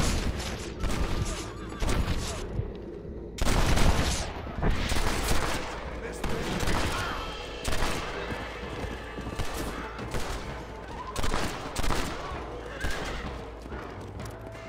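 Gunfire in the Western video game Red Dead Redemption, with repeated loud sharp shots in bursts and volleys alongside horse hooves clip-clopping around a stagecoach.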